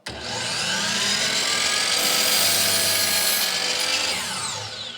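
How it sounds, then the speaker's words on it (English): Large power saw spinning up to full speed in a workshop, the motor whine rising quickly and holding as a loud, steady close roar before easing toward the end. "So we're gonna start the saw."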